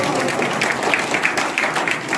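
Audience applause at a talk show event, a dense, steady wash of many clapping hands continuing evenly throughout without speech.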